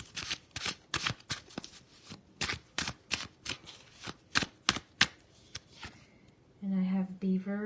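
A deck of tarot cards is shuffled in a rapid run of crisp, close riffling snaps and flutters. A voice starts speaking near the end.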